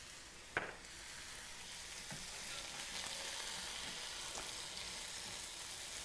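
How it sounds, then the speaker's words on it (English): Beans and spinach sautéing in a hot pan, a steady broadband sizzle running throughout with a sharp clink near the start and a few soft scraping stirs, close and moderately loud with no talking. "I'm just gonna saute this till everything's really well incorporated and those beans get nice and hot."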